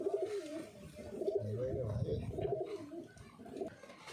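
Pigeons coo in a continuous low, throaty chorus at a pigeon market in West Bengal, close and steady throughout, with voices murmuring underneath.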